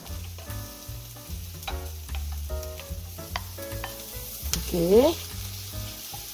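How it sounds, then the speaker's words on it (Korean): Sweet potato and onion stir-frying in a pan, with a steady close sizzle and recurring scraping stirs that repeat every half second or so, running throughout while someone speaks briefly. "고구마와 양파를 처음에 볶아줄게요"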